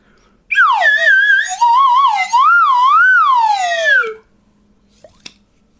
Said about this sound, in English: It's a slide whistle.